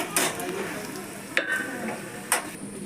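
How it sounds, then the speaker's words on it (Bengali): Katla fish pieces rubbed with salt and turmeric fry in hot oil, giving a constant sizzling hiss broken by a few sharp scraping clinks of a spatula against the pan. "মাছটাকে ভালো করে ধুয়ে লবণ হলুদ দিয়ে মেখে এখন ভালো করে ভেজে নিচ্ছি"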